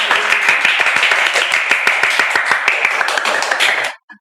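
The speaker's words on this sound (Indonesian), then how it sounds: "Tepuk tangan dulu untuk narasumber kita hari ini." A small group claps for a podcast guest, a dense run of quick hand claps, close and steady for about four seconds, then stops abruptly.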